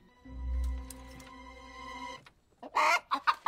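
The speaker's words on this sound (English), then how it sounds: "That sounds like a concerned chicken." A chicken clucks in a scene from the TV show Young Sheldon: a low hum and tonal bed first, then a few loud, quick, agitated clucks near the end.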